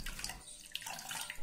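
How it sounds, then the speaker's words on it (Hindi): Cold water poured into a thandai mixture of almonds and poppy seeds, a short, close splashing pour with a brief gurgle at the end. "अब फिर से हम इसमें ठंडा पानी डालेंगे।"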